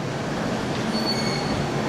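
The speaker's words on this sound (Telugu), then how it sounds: "ఈ ట్రైన్లన్నీ కూడా ఆటోమేటెడ్ డ్రైవర్ అయితే ఉండరు" A driverless automated LRT train runs in Singapore with a steady, loud rumbling roar and a thin metallic wheel squeal, heard from on board.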